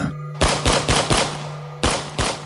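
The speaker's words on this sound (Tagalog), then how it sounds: "Kasunod nito ang napakalinaw na sunod-sunod na putok ng baril." Rapid gunshots in a horror story sound effect, a loud burst of about six sharp reports in quick succession with a brief pause before the last two, no talking.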